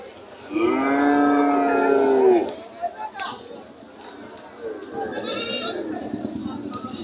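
Cattle at a busy livestock market give a loud, drawn-out moo near the start, followed by fainter lowing and animal calls under crowd chatter and talking.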